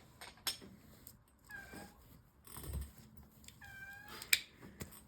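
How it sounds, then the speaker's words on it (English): A kitten meows twice in short rising-falling cries, close and fairly quiet, with faint clicks and taps of small objects around it in a quiet indoor room. "Calm down, kitten."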